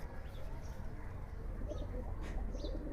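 Giribaz pigeons cooing while handled, low soft coos with a few thin chirps over a steady background rumble, close and moderately quiet.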